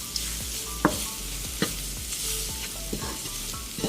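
Flour being stirred into hot sausage fat for a roux in a pan, a steady low sizzle with scraping utensil strokes and a few sharp taps against the pan, no talking.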